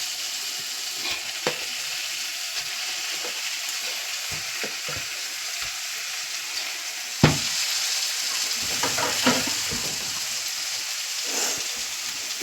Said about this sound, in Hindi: अब हम लोग अपना फिश ऐड करेंगे इसमें एक एक करके all together,